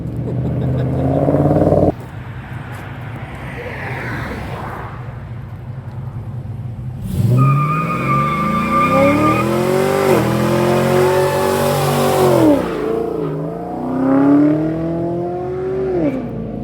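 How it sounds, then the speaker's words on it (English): A hot rod does a burnout at the 2024 Hot Rod Power Tour, its engine roaring loudly close by and revving in rising, wavering surges over a sustained rough drone. "Hot wheels on burnout."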